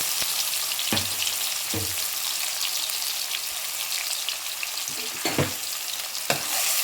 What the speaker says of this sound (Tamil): இஞ்சி பூண்டு விழுது, இந்த பச்சை மிளகாய், கொத்தமல்லி எல்லாமே ஒன்றா போட்டுருவோம்.